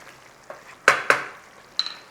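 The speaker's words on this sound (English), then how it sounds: "let's give that a nice little bit of cooking in there" Food cooks in a pan with fish sauce, heard as a low sizzle under a handful of sharp stirring clanks and scrapes, two loud ones close together near the middle, with no talking.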